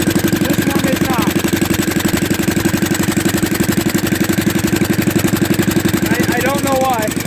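A John Deere Gator utility vehicle engine runs steadily with one cylinder misfiring, giving a loud, continuous rapid pulsing chug throughout, with faint voices and brief chirping sounds in the background.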